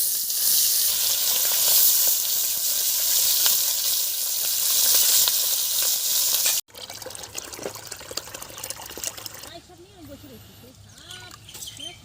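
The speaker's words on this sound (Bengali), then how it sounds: "কড়াইটা গরম হয়ে গেছে, এখন তেল দিয়ে দিচ্ছি।" A hot kadai sizzles loudly and steadily after oil goes in, a bright continuous crackle. It breaks off abruptly, followed by quieter clattering and liquid sounds under conversation.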